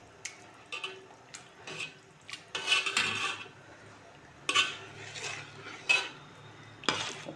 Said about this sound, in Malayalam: അപ്പോൾ നമ്മൾ ഇടയ്ക്കിടയ്ക്ക് ഇളക്കി കൊടുക്കണം